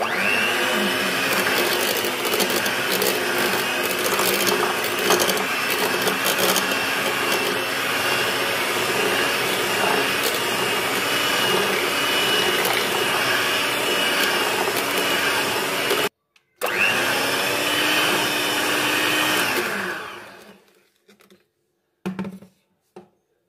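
A hand-held electric mixer beats tea cake batter with a steady, loud motor whine and grinding churn, running continuously, cutting out briefly, starting again and then stopping.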